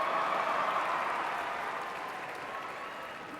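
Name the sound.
graduating class cheering and applauding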